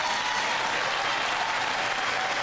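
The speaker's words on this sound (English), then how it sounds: "Clapping." Sustained applause from a large crowd, dense and steady throughout, with no voices standing out.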